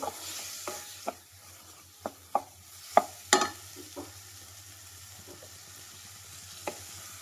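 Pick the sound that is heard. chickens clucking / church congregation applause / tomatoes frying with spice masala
tomatoes frying with spice masala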